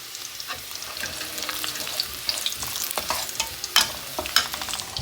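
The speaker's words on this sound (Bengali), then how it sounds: "শাকটা বাগার দিয়ে নিচ্ছি দিয়ে দিচ্ছি ভিতরে রসুন কুচি" Greens tempered with chopped garlic frying in a pan, a close crackling sizzle under repeated scraping stirs, with sharper spikes as the spatula strikes the pan, steady and without talk.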